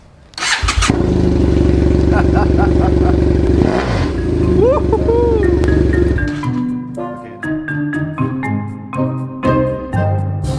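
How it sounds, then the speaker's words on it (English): A BMW GS motorcycle with its exhaust pipe removed starts with a raw, loud bark and runs roughly for about six seconds before shutting off, leaving lighter clinks and clatter. "See how it sounds with no exhaust pipe on."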